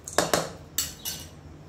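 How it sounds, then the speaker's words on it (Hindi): Spoon scraping and clinking against a dish while a spiced chatpata snack is served, with four sharp metallic clinks in two pairs, close and fairly loud, and no talk. "अभी इसे हम डिश में सर्व करते हैं।"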